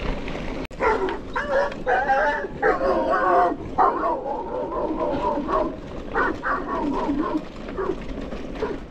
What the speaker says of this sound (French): Je crois qu'il y a un chien qui s'est pris un coup de jus.